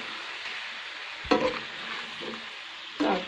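Goat meat fries in a pan over high heat with a constant broad sizzle, broken by two louder scraping stirs of a spatula against the pan.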